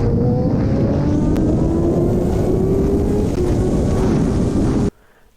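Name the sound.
Kawasaki Ninja H2 motorcycle at high speed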